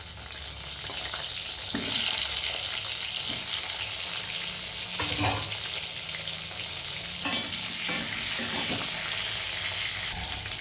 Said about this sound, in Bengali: বেগুনগুলো একটু জাস্ট এপিট এপিট করে ভেজে নেব